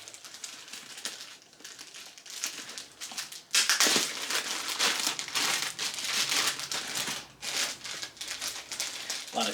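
Factory plastic packaging crinkles and crumples as an Amazon Basics Everyday Sling bag is unpacked, close and busy, growing louder and denser partway through with no talk.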